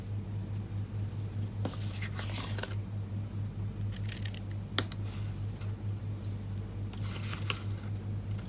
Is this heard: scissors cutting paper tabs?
yes